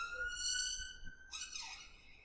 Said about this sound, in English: I'm just waiting for the ambulance to go by.